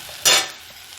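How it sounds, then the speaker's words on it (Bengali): A brief burst of sizzling and scraping as peas are stirred into cauliflower curry frying in a pan, one sharp hiss that quickly fades to a faint simmer. "এবার দেবো আমি মটরগুলো দিয়ে আর একটু ভালো করে নাড়াচাড়া দিয়ে"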